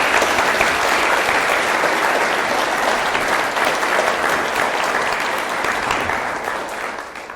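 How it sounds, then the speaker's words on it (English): Loud, dense applause from a school-hall audience thanking speakers: a sustained wash of many hands clapping that tapers slightly toward the end. "so can we give them another hand of applause?"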